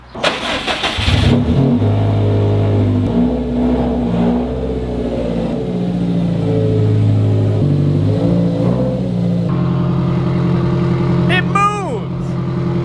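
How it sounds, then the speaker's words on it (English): Loud car engine revving hard through a very loud exhaust, with a steady heavy drone, several rising throttle blips and a sharp rising whine near the end, close by; the car has poor throttle response while its ECU relearns. "I'm gonna move away from the exhaust too because that's really loud."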